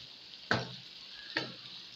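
Tender cooked mutton is fried down in a pot, a quiet low sizzle broken by two distinct scraping stirs spaced about a second apart.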